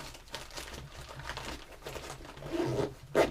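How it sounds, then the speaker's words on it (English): The zipper on a Plano Guide Series tackle bag is drawn closed in quick faint rasping pulls, fabric rustling between them, with a louder zip at the end. "Zip it up."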